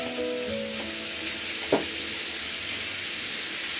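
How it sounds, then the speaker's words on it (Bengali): Garlic sizzles steadily in hot oil in a home kitchen while a chicken dish is cooked, a dense even crackle with one brief clink partway through and no voices. "রসুনটা দেখো একটু ভাজা ভাজা হয়েছে।"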